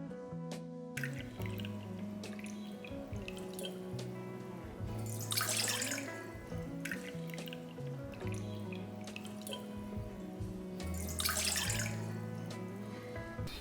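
Water pours and splashes into a metal pot for making tea, with trickling and dripping that swells twice, close up and fairly quiet, no voices.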